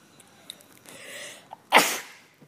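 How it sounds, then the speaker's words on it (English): A single forceful sneeze, close and loud, preceded by a soft intake of breath and faint game-like background sounds, with no talking. "Sorry about that sneeze"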